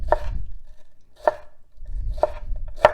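Knife dicing an onion on a cutting board: three or four crisp, evenly spaced chops, close and clear, with quiet handling between strokes.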